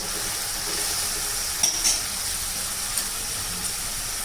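Tomatoes roasting in a pan with other ingredients give a steady, soft sizzle under a broad hiss, with a few faint clinks and pops near the middle.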